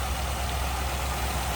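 A 1957 Ford Fairlane 500 Skyliner engine idles smoothly with a stock exhaust and a slight low rumble, steady and close throughout.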